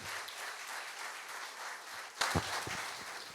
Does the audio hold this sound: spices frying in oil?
no